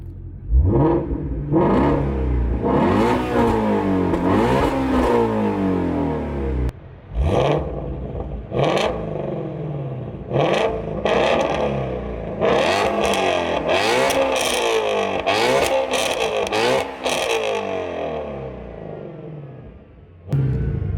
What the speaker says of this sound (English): Let's give a few revs so you guys can hear what this thing sounds like.